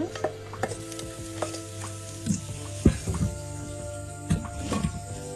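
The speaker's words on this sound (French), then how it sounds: "Je vais donc mélanger les haricots à la préparation." Cooked green beans are stirred into a pepper mixture in a hot pan, a soft steady sizzle broken by scraping utensil strokes and a few sharp clinks against the pan.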